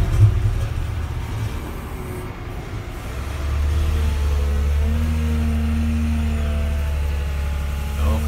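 Case 721 wheel loader's engine runs at close range, a loud steady low rumble that rises slightly as it works harder midway.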